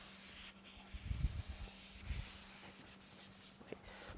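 An eraser rubs chalk or marker off a lecture-room board in a few soft, scratchy strokes, with brief swishes and pauses, faint against a steady electrical hum.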